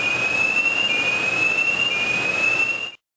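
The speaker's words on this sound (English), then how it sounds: "the fire alarm sounds like this" Fire alarm at an industrial production site, a steady continuous electronic tone held for about three seconds, loud and alone before cutting off.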